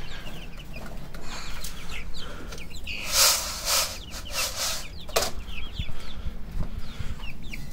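Chickens cluck and squawk close by while being fed grain, with scattered short calls and a burst of louder squawking and wing flapping midway, over faint outdoor background noise.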